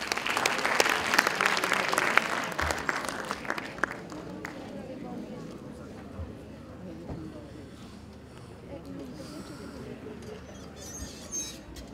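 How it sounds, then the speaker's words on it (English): An audience at a national economic summit bursts into applause, loud and dense for the first few seconds before dying down into a murmuring hall with scattered sounds. "Can we have a round of applause,"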